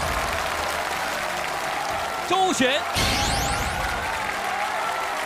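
A studio audience at a televised singing competition breaks into dense, sustained applause welcoming the judges onto the stage, loud and steady, while a host's voice announces a name over it.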